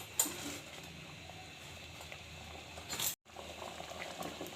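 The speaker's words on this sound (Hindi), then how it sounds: "ये बबल्स बन रहे हैं और ये बर्तन से बाहर आ रहे हैं" Tomato ketchup boiling in a pot, soft continuous bubbling and popping at low volume, with a brief gap near the end.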